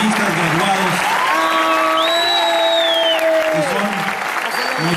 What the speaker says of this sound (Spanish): Brindémosles a todos un fuerte y merecido aplauso a los hoy profesionistas graduados